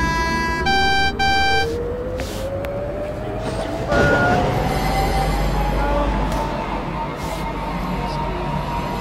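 Tram wheels squeal along a sharp curve in the Roblox game Rails Unlimited, a long rising whine over steady rail rumble, with a horn-like tone near the start.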